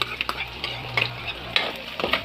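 Potatoes and carrots sautéing for dinuguan, a close sizzle broken by quick stirring scrapes and utensil clicks against the pan, no one speaking.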